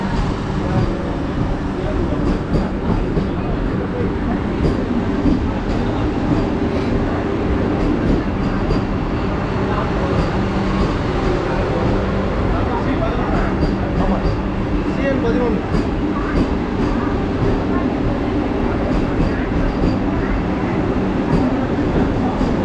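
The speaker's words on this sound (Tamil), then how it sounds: "இதுதான் வந்தே பாரத் ட்ரெயின். பார்த்துக்கோங்க. அதி விரைவு தான் பாருங்க." A Vande Bharat express train rushing past near Kanyakumari, a loud, continuous roar and rumble of wheels and carriages that stays steady and close throughout.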